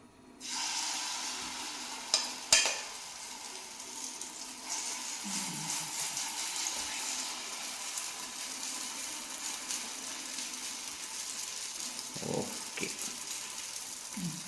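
Dosa-style batter hits a hot tava and sizzles steadily and close up, a continuous hiss with a couple of early clinks and a soft scrape near the end.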